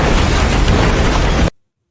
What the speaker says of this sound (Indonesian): tiba-tiba bom yang dikira palsu malah meledak